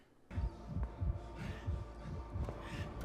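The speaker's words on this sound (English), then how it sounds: "Is he listening to Foggy's heartbeat?" Heartbeat sound effect in a dramatic TV scene, a steady slow thumping of paired low beats repeating about every half second, close and muffled over a faint hum.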